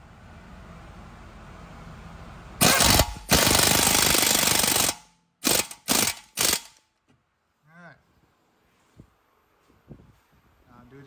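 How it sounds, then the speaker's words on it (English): Impact wrench tightening strut bolts on a 2017 Chevy Malibu: a long loud rattling burst, then three short bursts, followed by quieter clicks and handling noises. "So I'm going to use my impact to bring it in."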